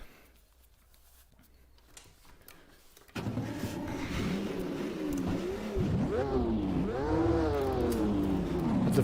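A Ford race car engine in the Automobilista VR racing game at Sebring, quiet at first, then it roars in loud and keeps revving up and down in sweeping pulls with no one talking.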